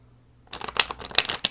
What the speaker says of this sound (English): We're going to shuffle again this way.